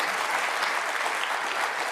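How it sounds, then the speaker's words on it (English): A dense burst of clapping and cheering from a Leicester snooker crowd at the Champion of Champions final, saluting Mark Selby, loud and continuous throughout the short moment. "Big Leicester cheer for Mark Selby."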